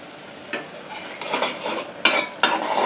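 Masala stir-fried in a pan for pangas fish bhuna, a low sizzle broken by a few spatula scrapes and sharper metal clanks growing louder toward the end.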